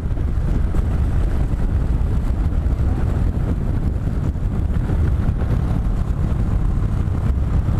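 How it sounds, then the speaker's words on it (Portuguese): Heavy, constant wind roar buffets the microphone while riding a motorcycle, a loud continuous low rumble that never lets up and masks other sounds. "Eita, vento da bexiga!"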